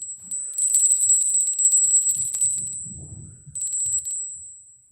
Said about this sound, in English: What a beautiful sounding little bell.